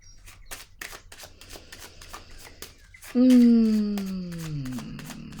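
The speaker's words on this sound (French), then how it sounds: "je vais piger une carte sur elle" A tarot card drawn from the deck: soft papery flicks and light taps under someone speaking French, followed by a loud, sustained falling tone near the end.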